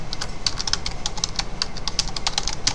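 Rapid keystrokes clatter on a computer keyboard as a name is typed into an online form, a close, loud, uneven run of crisp clicks with no voice.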